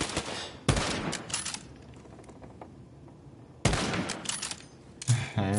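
Bursts of gunfire erupt in Borderlands 3, two sharp, loud volleys of rapid shots separated by a quieter stretch, with another short burst near the end.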